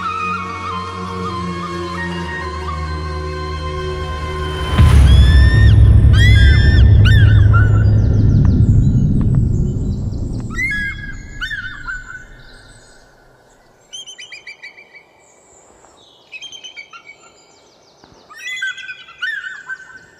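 Eagles gathering where there is carrion call again and again, shrill cries coming in bursts. They start after a loud rumbling swell and sound out over quiet open air, some near and some farther off.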